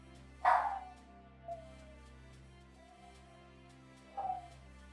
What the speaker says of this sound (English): Sorry about my dog, guys.